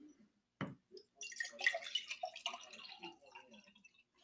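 Water is poured into jugs at home, with a single drip at first, then a gurgling splashy pour lasting a few seconds, close and moderately quiet.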